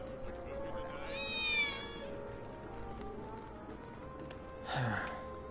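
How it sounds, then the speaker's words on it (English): A cat in Final Fantasy VII Remake lets out a drawn, high meow, followed after a pause by a second shorter cry with a breathy sigh-like edge, over a low game background hum. "I think one of Betty's cats might be nearby."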